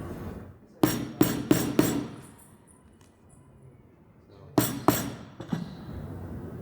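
Regular hammer tapping tight feather strips into an upholstery frame: a quick run of four sharp taps, a pause, then three or four more, close and distinct over a quiet room.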